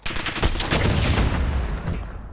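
Gunfire from a sniper rifle in a multiplayer shooter video game: a sharp broadband shot near the start, then sustained dense crackle and rumble of continued firing through the rest.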